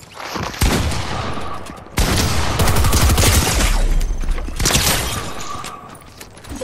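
Rapid bursts of gunfire in a Fortnite match, with repeated volleys in loud clusters and short pauses between them, sounding close and heavy throughout.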